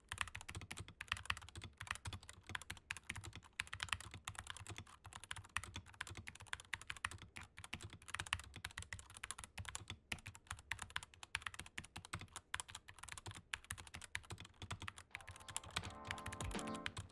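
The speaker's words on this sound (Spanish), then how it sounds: "una pequeña probita de sonido para que experimenten cómo se escucha el teclado cuando estamos usando" Continuous rapid typing on a 60% plastic mechanical keyboard with brown switches, dense clacking keystrokes close up and steady, with no talking.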